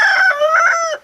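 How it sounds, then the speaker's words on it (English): A farm rooster gives one long, loud, close crow with a rising and falling call, heard clearly with no other sounds. "My rooster knows exactly when to crow at the right time."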